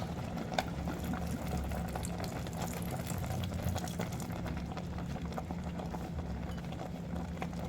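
Saluyot jute leaves simmer uncovered in vinegar, giving a steady, close bubbling and hissing boil that runs unbroken at an even level, with no talk over it.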